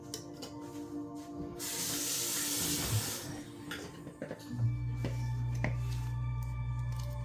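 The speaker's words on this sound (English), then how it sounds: "Put a little bit of hot water" Hot water poured into a pan of Alfredo pasta sauce, a bright hissing splash lasting a couple of seconds, then sizzling and clattering, with a steady low hum rising near the end.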